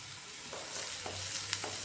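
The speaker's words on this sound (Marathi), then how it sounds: "हे पहा आता कांदा हा परतून झालेला आहे" Chopped onion with crushed garlic sautéing in a pan for a vegetable dish, a soft, even sizzle with a few light stirring taps.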